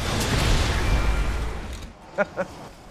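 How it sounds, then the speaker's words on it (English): A big rumbling thermobaric rocket blast in a video game, a long loud roar that fades out over about two seconds, followed by two short faint pops. "It's a rocket that when you shoot it, it will release a gas, ignite it, gives you one of the largest explosions in the game."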